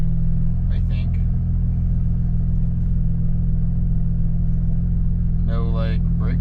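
Steady, close idle hum of a BMW 335i engine after an injector misfire fix, a low even drone with no breakups, with brief speech over it.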